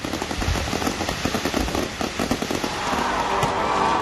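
Firecrackers burst in rapid, dense strings of sharp crackling pops, loud and continuous like a barrage, typical of Diwali celebrations.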